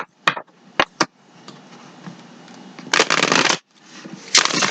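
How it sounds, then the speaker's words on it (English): A Cosmic Tarot deck is shuffled by hand indoors, with a few sharp card taps followed by longer riffling bursts, close and fairly quiet. "Give it a shuffle or two."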